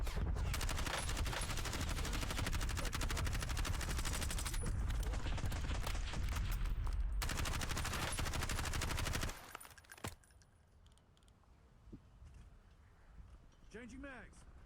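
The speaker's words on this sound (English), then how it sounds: "Now they start shooting." Dense, continuous automatic gunfire in Call of Duty Warzone roars for about nine seconds with sustained rapid shots, then cuts to quieter game ambience with a few scattered pops while a voice talks.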